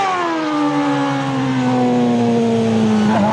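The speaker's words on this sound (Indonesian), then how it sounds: "Wadidaw, ada mobil balap F1." A toy F1 race car's engine whine holds a steady high revving tone that slowly falls in pitch, loud and close with no talk.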